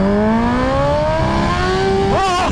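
A 2019 Kawasaki Ninja H2 motorcycle accelerating hard, its loud engine note climbing steadily in pitch, then briefly dropping and wavering through a gear change before pulling on.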